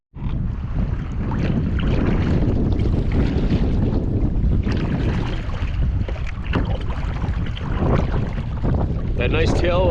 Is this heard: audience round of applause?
no